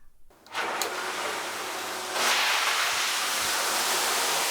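A pool filter water pump in a sauna's pool room switches on, bringing a sudden broadband rush of flowing water that steps louder after about two seconds and then holds steady.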